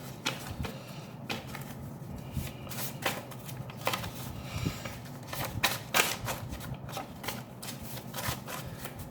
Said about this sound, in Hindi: let me shuffle and then I will